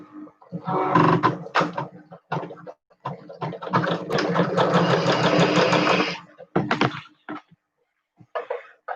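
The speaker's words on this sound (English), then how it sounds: "I'm going to do a tack stitch just because." A sewing machine runs a tack stitch while sewing a fabric face mask, stitching in short bursts and one longer steady run of rapid mechanical chatter, close and clear with pauses between.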